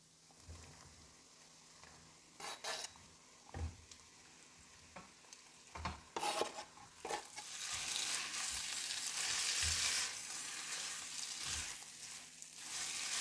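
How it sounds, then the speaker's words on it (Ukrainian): Chicken fillet and mushrooms frying in oil with onion and carrot, a steady sizzle with intermittent stirring scrapes that swells louder and denser toward the end. "Разом з моркою додаємо куряче філе та грибочки."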